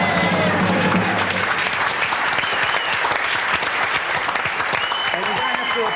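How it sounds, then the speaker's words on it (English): An audience at a sports awards show breaks into loud, sustained applause with some crowd noise, continuous clapping filling the whole stretch. "And you don't have to applaud for a long time."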